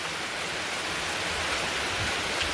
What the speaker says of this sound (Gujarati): જો મિત્રો, આ કેટલો વરસાદ વરી રહ્યો છે,